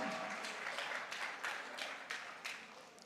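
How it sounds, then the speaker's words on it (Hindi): An audience at a direct-selling promotion event in Goa claps in a few uneven waves, the applause rising and falling in distinct bursts before thinning out, moderately distant and without talk over it. "तालियां बज सकती हैं।"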